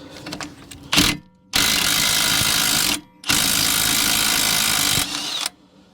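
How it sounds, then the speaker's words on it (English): Impact wrench (rattle gun) working on the shock absorber nut of a Vauxhall Vivaro van, two long loud sustained bursts of rapid hammering, with a short burst before them. "let me just get the old rattle gun now"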